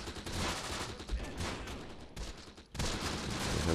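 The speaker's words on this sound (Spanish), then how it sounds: "Aquí ya estamos recibiendo fuego de estas unidades de aquí." Battlefield gunfire in the Close Combat The Bloody First video game: dense, loud bursts of rifle and machine-gun fire overlapping into a continuous fusillade, with a brief lull before the shooting resumes.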